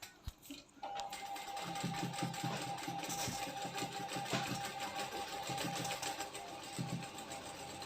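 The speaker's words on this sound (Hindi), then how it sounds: "अब हम ऊपर से पट्टी की तरफ एक सिलाई लगा लेंगे।" A sewing machine runs a line of stitching along a strip on a katori blouse, a steady close mechanical chatter that starts abruptly after a brief click and continues without a break.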